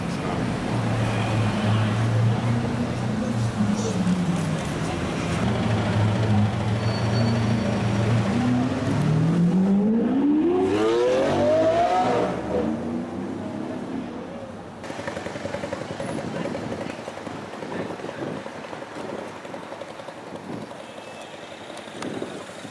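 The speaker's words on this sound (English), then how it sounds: "Sound of a V12. Here it comes." A V12 supercar engine passes on a London street, rising from a low rumble into a climbing whine around the middle, heard amid steady traffic noise.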